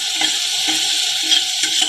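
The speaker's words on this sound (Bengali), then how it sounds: "এবার আমি এই তেলের মধ্যে সয়াবিনগুলো কষিয়ে নেব।" Soy chunks and spices frying in oil for brown rice biryani, a steady close sizzle with soft stirring scrapes recurring every half second or so.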